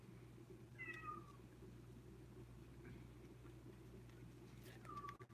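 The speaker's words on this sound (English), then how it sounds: "You hear the cats?" Cats meow a couple of times over a steady low indoor hum, short rising cries spaced a few seconds apart with a faint bird-like coo in the background.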